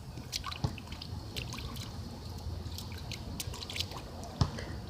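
A pet goose splashes and spins in a playground puddle, making faint scattered drips, trickles and soft water splashes with a few sharper splash accents, fairly quiet overall.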